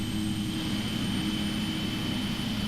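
Number 1 jet engine spooling up in a flight simulator, a steady loud whine and roar holding constant throughout, no voices.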